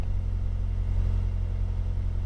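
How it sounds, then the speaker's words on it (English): Audi S3 engine idling with a steady low rumble and slight revving, close and continuous, no voices. "revving for some unknown reason"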